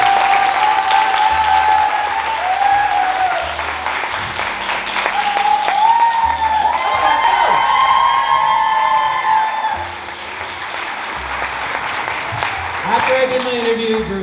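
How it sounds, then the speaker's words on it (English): Sustained audience applause fills a senior scholarship awards ceremony at a high school, loud and steady for about fourteen seconds with some crowd voices and cheering mixed in, easing slightly near the end. "The very first thing I want to do is I want to give a round of applause for Tracy."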